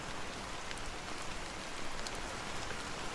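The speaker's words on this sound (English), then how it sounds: "how long has this rain been going on for?" Steady rain pours without pause in Honkai Star Rail, a dense, even hiss with scattered drops pattering on surfaces, no voices over it.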